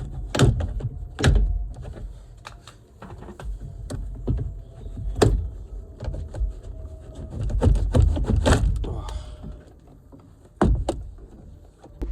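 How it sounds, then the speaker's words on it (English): A Skoda Roomster door trim panel is pried off by hand, producing sharp plastic clip pops, knocks and scraping clunks at an irregular pace, close and fairly loud, with no talking. "then the door card should come out"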